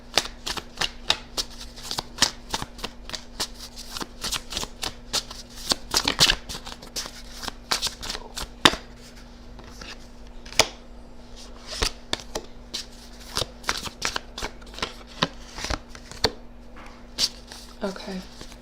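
Tarot cards shuffled by hand in a long run of quick riffling flicks and soft slaps, dense and rhythmic, close up with a low steady hum beneath.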